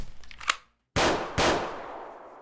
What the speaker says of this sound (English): The French journalist pulled the trigger